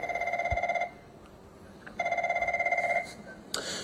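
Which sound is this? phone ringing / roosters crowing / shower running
phone ringing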